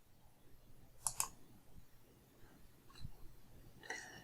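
Faint mouse clicks on a computer during a database search: a quick double click, then a couple of softer clicks a few seconds apart in a quiet room.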